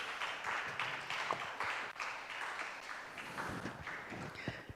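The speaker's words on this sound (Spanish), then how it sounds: "Dale un aplauso al Señor." A church congregation bursts into applause, dense irregular clapping from many hands that rises and falls over several seconds, with a few voices mixed in.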